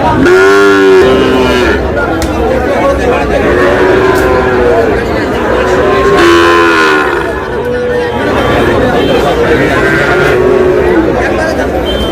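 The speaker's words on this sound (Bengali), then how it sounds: "ষাঁড় বাচ্চা ভাই।" Sahiwal bull calves and other cattle moo loudly and repeatedly at a busy Barisal cattle market, several drawn-out bellows over constant crowd chatter and bargaining voices nearby.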